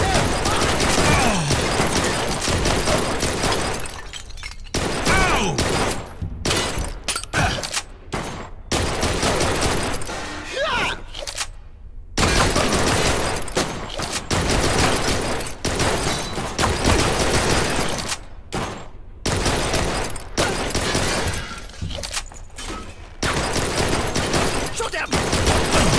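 Dense, continuous gunfire from the Blue Estate shooter video game, loud sustained bursts with short gaps, mixed with game effects and talking voices throughout.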